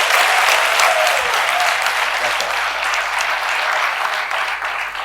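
Loud, dense applause from an audience at a café-style show, a broad roar of clapping that stays strong and tapers slightly toward the end, with faint voices mixed beneath.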